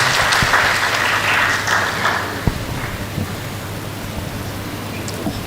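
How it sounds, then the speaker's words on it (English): An audience's round of applause at a university valedictory lecture, a dense hiss of many hands clapping that fades gradually, with a low hum underneath. "please let's give her a resounding round of applause as she comes to give this good message"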